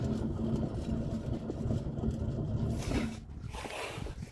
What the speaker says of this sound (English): mostly just horrific wheel noise.